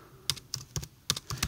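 Keystrokes on a computer keyboard while entering a search for a Spotify Premium IPA file, about ten clicks in short uneven bursts, close and fairly quiet, with no talking.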